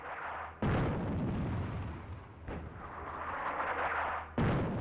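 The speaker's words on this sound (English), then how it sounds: "Oh, this is an artillery regiment." Artillery fire in the North Africa real-time strategy game Attack at Dawn: three heavy booms land a couple of seconds apart, each a loud sudden blast that rolls into a long rumbling decay, with no speech.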